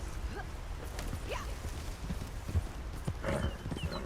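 Horse hooves clip-clopping in the Red Dead Redemption 2 video game, a steady walking rhythm of soft hoof falls over a low rumbling ambient background, with a brief horse-like vocal sound near the start.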